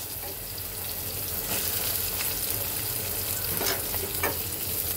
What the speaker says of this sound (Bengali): মাছ ভাজা তেলের মধ্যে দিয়ে দেবো একটা শুকনা মরিচ, দিয়ে দেবো কেটে রাখা পেঁয়াজ আর কাঁচা মরিচ।